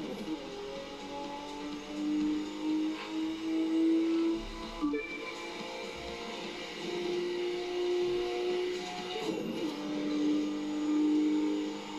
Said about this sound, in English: Look how this car sounds.